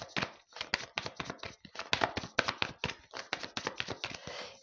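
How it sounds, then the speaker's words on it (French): Tarot cards being shuffled by hand, a fast series of crisp, close slapping and riffling taps in uneven bursts, fairly quiet and without speech. "Je les prends, je mélange."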